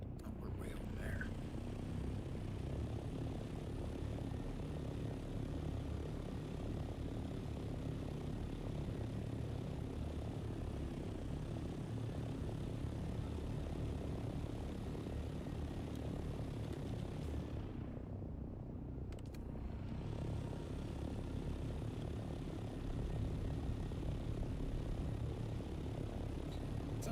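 An aircraft flies in the video game Dune: Awakening, a steady droning engine hum holding throughout at moderate loudness, briefly dipping in the highs around the middle, with no talking.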